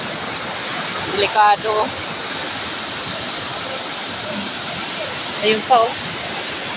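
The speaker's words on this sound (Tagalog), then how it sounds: "Taas kagad ng taas ng tubig agad oh. Lakas." Rushing floodwater rising fast, a steady broad roar of churning water that fills the whole scene, while a voice speaks briefly twice over it.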